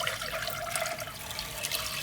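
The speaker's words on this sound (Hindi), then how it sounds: "जो दाल का पानी है वो भी हमने शामिल करना है" Lentil cooking water being poured into a pot of whole masoor dal, a steady, soft splashing and gurgling stream heard close by, with no talking.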